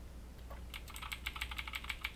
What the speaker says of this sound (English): I was just making sure my keyboard still worked